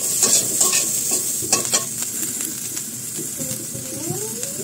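An eggplant roasting directly over an open flame with garlic and green chili tucked inside, giving a steady close sizzle and hiss with soft crackles and pops, no talking.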